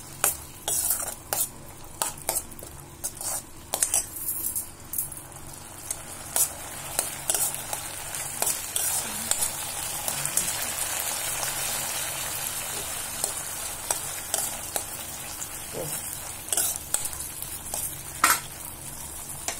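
Chilli sticks are stirred and fried in a pan with chilli flakes and tomato sauce: a steady close sizzle runs throughout, broken by frequent clinks and scrapes of a utensil against the pan, with no voices.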